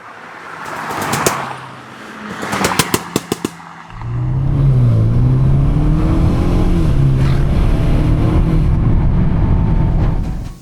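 Stage 2 tuned Jaguar XE with a 2-litre turbo petrol Ingenium engine and custom full exhaust: two bursts of sharp pops and crackles, then a loud, close, sustained engine drone rising and falling under acceleration.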